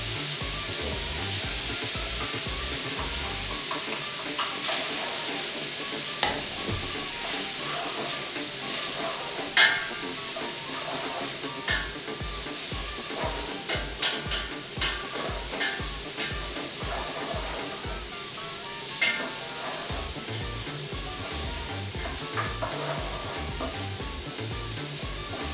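Onion stirred in a hot pan for oven-baked stuffed cabbage gives a steady, close hiss and sizzle with scattered soft scrapes and clicks of stirring, under a low background hum.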